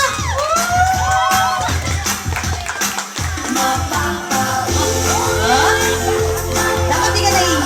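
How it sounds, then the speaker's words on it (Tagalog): At an 18th birthday party, a lively crowd cheers and whoops loudly over background music, with shouts and scattered clapping blending into a continuous festive din. "Isang palakpak for Ayesa!"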